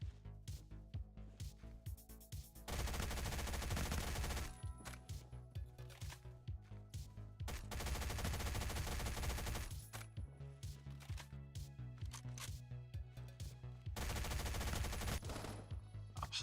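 Gunfire in the Roblox video game Phantom Forces: repeated loud bursts of rapid automatic shots alternating with quieter stretches of single shots and movement, with no talking.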